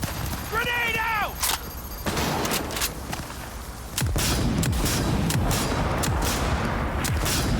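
A grenade explosion and scattered gunfire in a Cyberpunk 2077 street fight, a heavy boom partway through followed by dense rumbling and popping shots, with voices mixed in beneath the din.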